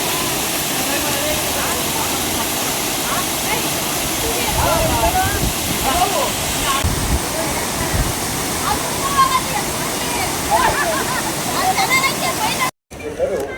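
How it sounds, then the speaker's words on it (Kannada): A small roadside waterfall pours with a steady, close, broadband rush for the whole stretch, and faint voices sit under the constant water noise. "ಹಾಗೆ ಹೋಗ್ತಾ ದಾರಿಲಿ ಒಂದು ಸಣ್ಣ ಫಾಲ್ ಸಿಕ್ತು"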